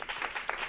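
Brief burst of audience applause for a panelist at a food-system event, moderately loud, steady overlapping claps over a very short moment.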